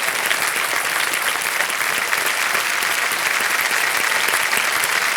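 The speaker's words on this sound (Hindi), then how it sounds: "और जोरदार तालियां बज जाए इनके लिए।" Studio audience on an Indian quiz show bursts into loud, sustained applause, a dense continuous wash of clapping with no talk over it.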